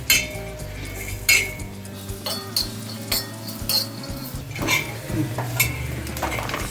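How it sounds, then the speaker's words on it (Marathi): Grated coconut roasting in a little oil in a pan, a soft sizzle under repeated scraping and clinking of a spatula against the metal, close and fairly quiet with no talking. "आता हे खोबरं आपण भाजून घेऊया थोडस तेल टाकायचं"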